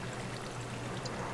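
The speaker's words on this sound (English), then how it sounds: "dropped some water in there." Water poured from a bucket into a sugar cane farm in the video game Minecraft, with a steady soft rushing trickle, fairly quiet and continuous, and no talk over it.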